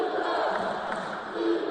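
A basketball crowd in a gym roaring after a fast break, a dense, sustained wash of cheering voices at moderate distance without distinct individual words.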